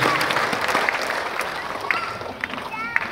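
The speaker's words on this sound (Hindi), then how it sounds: "आप अपने लिए जोरदार ताली बजा सकते हैं।" An audience at a stage event bursts into loud, continuous applause, a dense patter of many hands clapping with a few sharper claps standing out, close and steady throughout.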